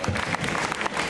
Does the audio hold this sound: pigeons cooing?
no